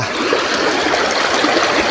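Clear, cold stream water flows and trickles at a natural waterfall pool, a close, steady burbling rush with no voices over it.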